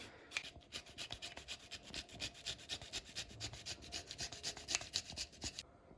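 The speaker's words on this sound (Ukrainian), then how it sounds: "ось кидаємо, це тромбовка така. І це якось має якось так ось працювати." A peeled garlic clove crushed in a small garlic press bought online gives a fast run of rhythmic rasping, grinding strokes, close and fairly quiet, with no talk.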